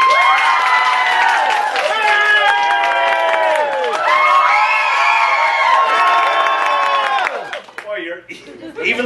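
A comedy show audience cheering and shouting loudly in sustained bursts, with children's voices prominent, fading out near the end.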